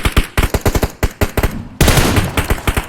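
PUBG Mobile gunfire crackles loudly in rapid bursts of close shots, then turns into a sustained rattle of automatic fire mixed with more distinct cracks.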